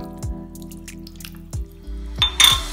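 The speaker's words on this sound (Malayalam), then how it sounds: "ഇനി നമുക്ക് അതിനകത്തേക്ക് ഒരു കപ്പ് തിളപ്പിച്ചാറച്ച വെള്ളമാണ് ഞാനിപ്പോൾ ഒഴിക്കുന്നത്." Cooled boiled water is poured into a homemade fish pickle, heard as a few sharp, close drips and splashes spaced over a low steady hum, ending in a short louder spatter.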